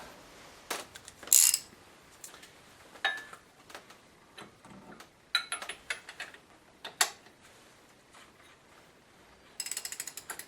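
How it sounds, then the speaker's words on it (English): A socket wrench ratchets in short clicking bursts, turning the crankshaft of a Mercedes-Benz W202 C280 M104 engine during head gasket reassembly. The close, crisp ticks are separated by brief pauses. "I'm just gonna run the crankshaft, make sure that it's not hitting anything."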